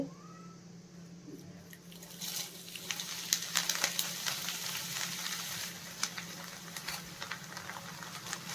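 Flattened rice (poha) frying in hot oil gives a steady, close sizzle with crackling bursts that swell after the first couple of seconds and keep going without talk.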